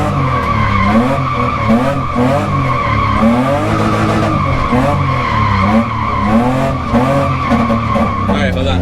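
A car drifting at a grassroots drift event, its tires skidding and squealing in long, wavering screeches over a revving engine, loud and close throughout.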